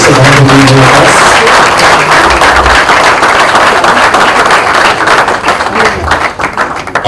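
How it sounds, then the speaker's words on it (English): Loud, dense audience applause fills a hall at the inauguration of a Spice Institute facility, a steady crackling wash of many hands that stays strong throughout and thins slightly near the end. "Ladies and gentlemen, big round of applause."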